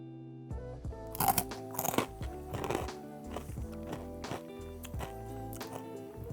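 Crisp oven-baked fries, dipped in a homemade sugar-free mango ketchup, crunch in several close bites over steady background music.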